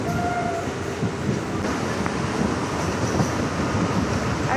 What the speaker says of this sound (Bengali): আর ট্রেনটা দেখো একদম